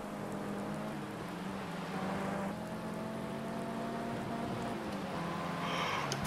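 Rain falls in the racing video game Project Cars 2, a steady hiss of drops over a droning car engine that holds loud throughout.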